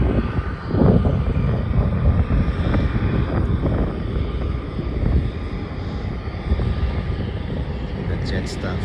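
A Jetstar airliner bound for Colombo taxis toward the north-south runway at Melbourne Airport, its steady engine rumble and whine filling the background continuously while someone talks over it.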